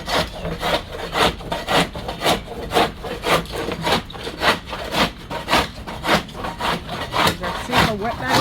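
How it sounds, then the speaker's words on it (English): Steady, rhythmic scraping strokes as old layers are stripped off a Coleman pop-up camper roof. The rasping is close and even, at about two strokes per second. "So I'm gonna scrape all this stuff off"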